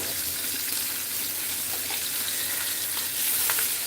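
Steak grease spattering as it cooks, a steady, dense hiss and crackle of sizzling fat that holds at an even level throughout, with no voices.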